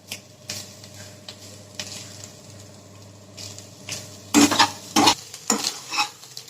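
Moong dal frying and being stirred in a pan for a Chettinad ukkarai sweet: a steady soft sizzle with scraping stir strokes that grow louder and busier toward the end, no talking.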